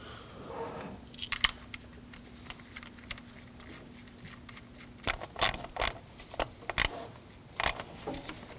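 Coil packs are slid down and seated on a Ford F-150 3.5L V6 engine, giving scattered sharp plastic clicks and taps, faint and close, with a cluster of firmer snaps near the end and no talk.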